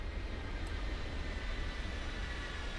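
An RAF C-17 Globemaster military transport aircraft gives off a steady, broad low engine roar at some distance, continuous and unbroken with no voices.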